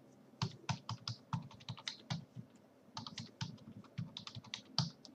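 Someone types an email ID and password on a computer keyboard while setting up an email account in Outlook 2013, producing quick, irregular bursts of close, crisp keystrokes with short pauses between words.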